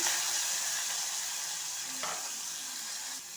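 Garlic sizzling in hot oil in a pan with bitter gourd, a steady close hiss with a brief stirring scrape partway through, no talk over it.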